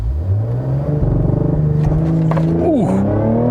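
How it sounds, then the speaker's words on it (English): A 2020 Cadillac CT5-V pulls away hard under launch control, its engine note climbing steadily through the clip with a brief dip as it shifts near the end, loud and close throughout with no talk. "this car does come with launch control, so let's go ahead and try what it feels like"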